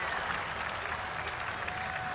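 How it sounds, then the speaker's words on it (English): A golf gallery at the U.S. Open in the EA Sports PGA Tour video game reacts with a steady, moderately loud crowd murmur and clapping-like wash that holds evenly without a clear peak. "I heard the oh of the crowd."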